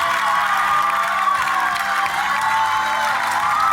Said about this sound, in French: Applaudissements pour Anthony.